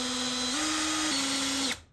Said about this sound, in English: I put some masking tape over my drill bit so I don't screw too far through the wood